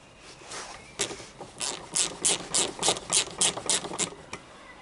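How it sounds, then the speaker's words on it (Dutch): Ratchet wrench turning counterclockwise to loosen the hex bolts on the brake caliper of a Vespa/Piaggio Zip 4-stroke scooter, a rapid run of about a dozen sharp, close pawl clicks in steady rhythm, with no talking. "Hiervoor kun je een ratel gebruiken of een inbussleutel."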